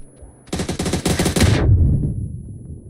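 Rapid automatic gunfire in PUBG's zombie steel mill mode, a loud close burst of machine-gun shots lasting about a second, followed by a lower rumbling tail.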